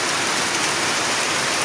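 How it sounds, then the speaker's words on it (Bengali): Heavy monsoon rain pours down in a dense, loud, steady hiss, unbroken and with no voices over it. "দেখেন কি পরিমাণ বৃষ্টি নামছে"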